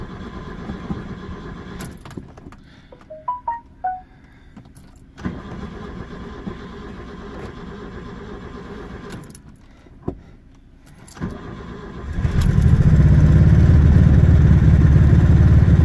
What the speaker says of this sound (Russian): Видели, как заводится?